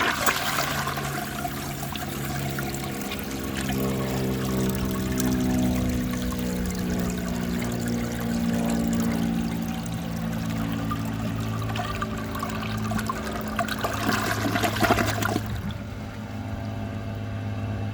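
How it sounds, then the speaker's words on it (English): A 1957 Gerber Mt Vernon toilet flushes from a dry bowl in one long, strong rush of swirling water with a steady low hum, loud and close, ending in a sharper gurgle and drain-off near the end. "For the first flush test, let's see how it flushes with a dry bowl."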